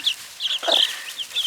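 Several backyard chickens clucking and squawking in short repeated bursts, close by and fairly quiet, with no talk over them.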